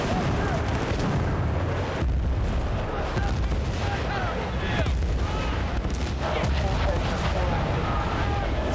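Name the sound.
mortar strikes exploding in video game Battlefield Bad Company 2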